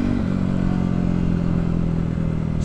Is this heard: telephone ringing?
no